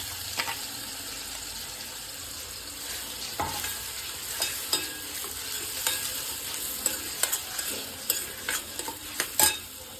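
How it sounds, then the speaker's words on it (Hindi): Onion and tomato paste sizzles steadily in a hot pan for dal makhani while a spoon scrapes and stirs it, with close, repeated scraping strokes that grow more frequent toward the end. "और ये जो प्याज और टमाटर का पेस्ट डाल दो अभी।"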